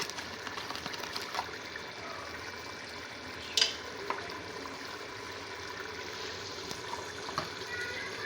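Karahi gosht frying in a wok-like karahi with cumin and black pepper, a soft continuous sizzle with faint stirring scrapes and one sharper clink partway through.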